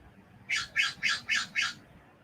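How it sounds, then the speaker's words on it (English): A bird gives five quick, harsh squawking calls in an even rhythm, fairly close, over faint background noise. "I do hear you, birds."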